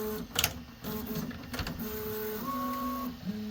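A Prusa XL 3D printer runs continuously while extruding filament and moving, giving steady motor whine with shifting stepper tones and a few sharper mechanical ticks, close and alone.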